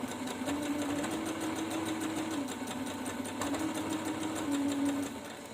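A sewing machine runs steadily along the short side of a cloth face mask, a close, continuous whirring stitch for about five seconds before easing off slightly at the end.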